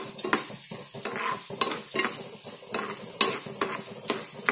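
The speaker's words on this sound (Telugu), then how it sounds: "చూసారు కదా ఇవి వేగినాయి కదా." Mustard seeds, cumin, urad dal and chana dal tempering in hot oil for gongura pachadi, with light crackling and a spoon scraping and clinking against the pan at irregular intervals, close by, no voices.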